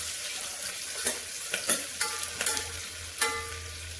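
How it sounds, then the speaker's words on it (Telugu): Onions frying in a pan for methi leaves pulao, a steady close sizzle with scattered scraping stirs and utensil clicks, no voices. "ఉల్లిపాయ వేసి దీన్ని కూడా ఫ్రై చేసుకోవాలి"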